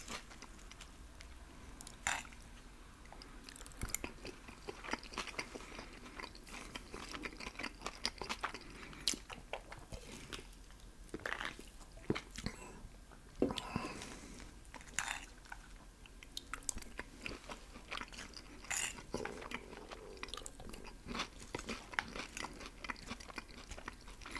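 Close chewing and biting of taco salad and hillbilly casserole, with soft wet crunches and mouth sounds repeating irregularly at low volume.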